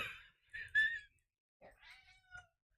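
A house cat meows twice, close and clear: a rising, whiny call, a short pause, then a second drawn-out meow that tails off, with near silence around them.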